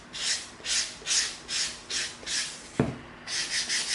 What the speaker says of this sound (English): let's come in with our 220 sanding stick